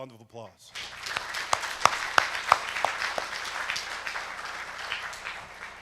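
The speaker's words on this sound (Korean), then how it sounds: "여러분 모두를 위해 다시 한번 큰 박수 부탁드립니다" Audience at an international forum in Korea claps after a keynote speech, a brief voice at the start giving way to steady applause with a few sharp individual claps standing out, moderately loud and sustained.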